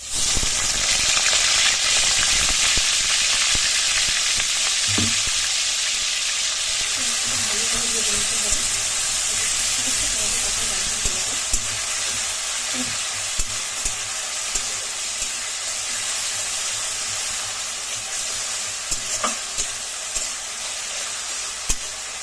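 Ground onion paste dropped into hot oil for a fish curry, a loud, steady sizzle and hiss with occasional clinks and scrapes of stirring as it fries.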